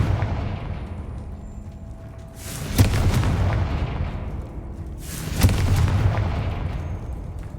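Two heavy booming blasts from the Confringo fire spell in Hogwarts Legacy, each a sharp burst with a long rumbling decay, spaced a few seconds apart over a steady low background.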